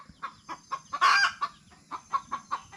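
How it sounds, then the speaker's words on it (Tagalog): Chickens with chicks clucking in a short burst of rhythmic, fairly close calls, with one louder squawk near the middle. "Ayan yung mga manok ko mga kasinag ang dami pa naman ang sisiw niyan."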